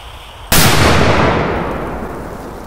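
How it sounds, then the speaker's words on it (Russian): A single firecracker goes off with a sudden sharp blast, loud and close, followed by a long rumbling decay that fades over the next two seconds. "Вот это лютый взрыв."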